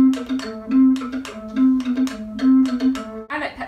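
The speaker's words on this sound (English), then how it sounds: "The C bass sounds like this." Paetzold square bass recorder in C, a low breathy tone played alone in a short run of detached notes with distinct articulation, close and clear.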